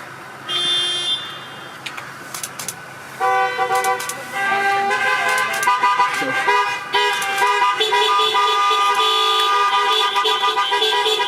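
Car horns honk repeatedly at a wedding reception: a short blast, then a long stretch of layered, sustained tooting from several horns, loud and continuous.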